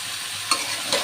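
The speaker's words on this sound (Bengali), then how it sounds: "লাউটা একটু ভালোভাবে কষিয়ে নিব" Bottle gourd with rohu fish frying and being stirred in a pan: a steady close sizzle broken by two quick spatula scrapes, with no talking.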